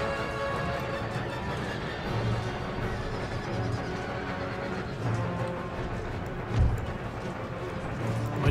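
Cavalry horses galloping in Empire Total War, a dense battlefield wash of hoofbeats and occasional whinnies mixed with general combat noise, steady and fairly loud with one thump near the end.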